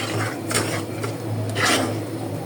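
Flour being stirred in a pan for Bengali taler puli pitha: a scraping, rasping rub of spoon against the pan in a few short strokes, moderately close, with no talk.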